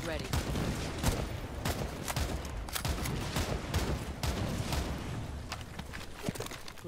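Rapid, repeated gunfire in Rainbow Six Siege: sharp shots crack in quick bursts and volleys, loud and dense across the whole stretch, with faint voices under it.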